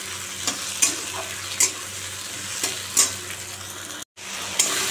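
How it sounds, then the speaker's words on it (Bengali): Spices cooking with soaked cumin paste in hot oil in a pan, a steady close sizzle broken by regular scraping strokes of a spoon stirring, with one brief dropout. "দেখো মশলাটা দিয়ে দিয়েছি আমি, এখন কষাচ্ছি"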